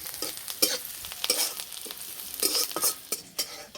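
Onion and garlic frying in a pan for a fresh pumpkin-leaf dish, a steady close sizzle broken by irregular stirring scrapes and clinks, with no voices.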